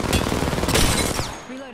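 Dense automatic gunfire from a weapon in the shooter game Apex Legends, a loud, close burst of rapid shots lasting over a second before tapering off.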